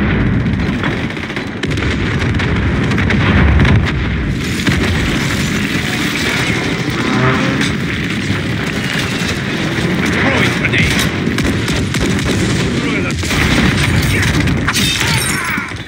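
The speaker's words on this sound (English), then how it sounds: "Friendly precision airstrike inbound." Precision airstrike explosions in a video game: a dense, loud, continuous barrage of booming blasts and crackling debris rumbling for the whole stretch without letting up.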